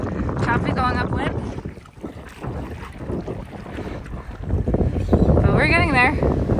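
A small boat pushes upwind through choppy water in the Florida Keys, with steady wind buffeting and water slapping throughout and people talking over it.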